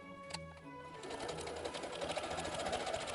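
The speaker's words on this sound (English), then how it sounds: "I'm not stitching over there. I'm stitching right here." Sewing machine stitching fabric for an Imperial Officer hat, a steady close mechanical whir that starts after a faint tap or two and runs continuously, fairly quiet, with no voice over it.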